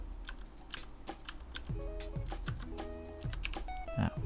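Computer keyboard keys clatter in a quick, uneven run of close clicks as a file name is typed, with a low background hum and soft tonal beeps.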